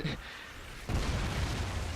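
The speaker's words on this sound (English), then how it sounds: "there was an extreme delay in the explosion" A K.E.M. strike nuke detonates in Call of Duty Ghosts with a sudden deep boom midway through, followed by a sustained low rumbling roar that stays loud to the end.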